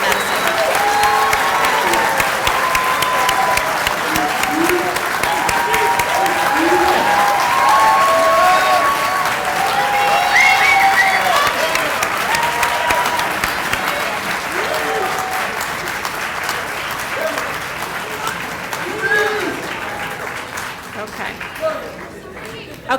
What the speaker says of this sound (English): We'd like to give you a round of applause and welcome you to the Columbia University College of Dental Medicine.